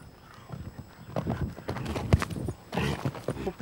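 A horse's hooves clip-clop in an uneven rhythm at a horse show in Paris, moderately close, with brief background noise between steps.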